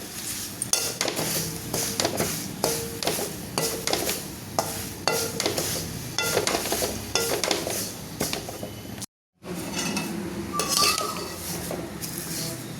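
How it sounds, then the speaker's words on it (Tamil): A metal spoon stirring flattened rice (aval) roasting in ghee in a pan, continuous scraping and clinking strokes against the pan with a faint sizzle, close and busy, with one brief dropout. "இந்த அவலை அதில் போட்டு லைட்டாக, ரொம்ப வேண்டாம், லைட்டாக நம்ம வறுத்து எடுத்துடலாம்."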